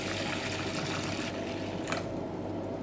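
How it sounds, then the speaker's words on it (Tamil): Water is poured over soaking rice, white sorghum and fenugreek seeds to rinse them for idli batter, making a steady, rushing splash for about three seconds. "இப்போ தண்ணி ஊற்றி அலசிட்டு ஊற வச்சுக்கணும்."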